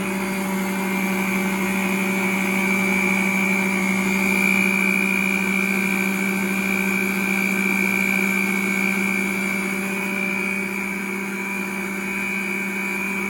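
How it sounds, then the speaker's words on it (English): Cake pop mixture whirring in a blender, a steady, loud motor drone with a constant pitch that runs evenly and alone throughout without pause. "Then you're just gonna blend it together."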